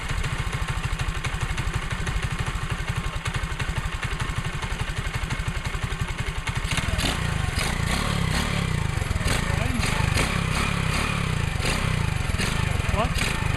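A 125cc mini motorcycle, a Honda CT70 or Z50 style clone, rides up a street, its small engine putting steadily at first and then growing louder and rougher, close by throughout, with a voice talking over it.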